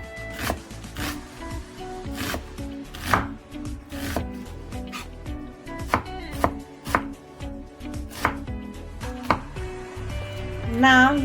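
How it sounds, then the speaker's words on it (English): An onion being chopped into tiny pieces with a knife, rapid and fairly regular close-up taps on a board that continue steadily throughout, with no speech over them. "So now you're going to do the same with the onion. Cut them into tiny little pieces again."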